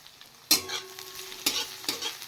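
Black cumin seeds, chopped onion and green chilli hit hot oil in a pan, giving a steady close sizzle with three sharp louder bursts as ingredients drop in and get stirred. No voices.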